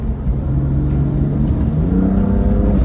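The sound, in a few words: modified BMW F80 M3 twin-turbo inline six accelerating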